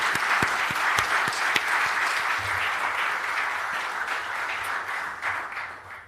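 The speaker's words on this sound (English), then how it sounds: "Another round of applause, please." An audience applauds at an International Civil Aviation Organization council event, steady clapping from many hands at a moderate distance, with a few sharper individual claps standing out near the start before the sound gradually thins and fades.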